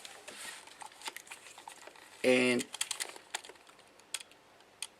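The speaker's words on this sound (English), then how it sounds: "just press the shutter release button" Mamiya RZ67 Pro II medium-format camera shutter release firing once, a single brief mechanical burst midway, near and fairly loud against a quiet room with small handling ticks; someone speaks a word.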